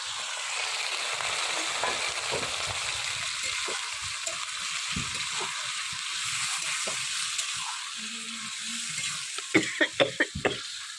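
Hot oil frying onions and green chillies in a pan, a loud continuous sizzle and hiss held steady for the whole stretch, ending with a few quick metallic taps of a spoon.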